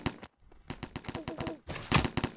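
Pixel Gun 3D gunfire: quick, sharp shots in uneven bursts, punctuated by brief pauses, mixed in with excited voices talking.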